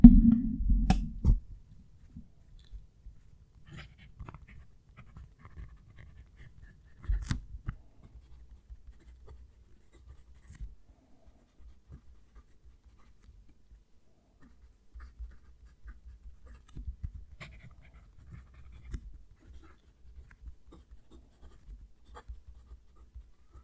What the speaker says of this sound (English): I'm going to move the mic down to the page so you can hear the pen writing